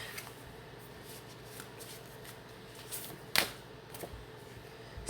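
Oracle cards being shuffled by hand, a soft, quiet papery riffling throughout with one sharper snap midway, close and without any talking.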